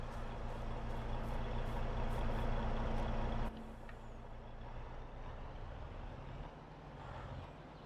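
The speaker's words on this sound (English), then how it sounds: "So we'll jump out, get our truck nice and close." A truck in the Farming Simulator video game rumbles close by with a steady engine drone, then the engine note drops sharply as the air brakes engage, leaving a lower idle that continues alone.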